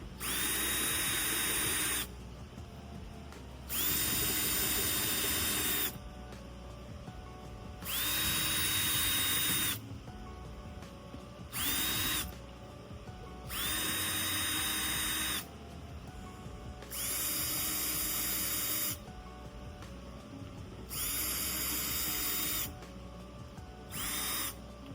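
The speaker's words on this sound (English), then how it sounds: "after drilling and counter sinking the bolt holes, that's how it came out" Power drill with a countersinking bit working bolt holes in a Honda Civic car fender, running in repeated bursts of roughly two seconds each, close and loud, with short pauses between holes.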